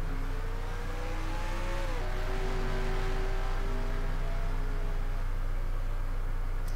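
Race cars lapping in NASCAR Racing 2003, a steady engine drone with a pitch that dips and resettles around the two-second mark, continuous and fairly loud with no voices.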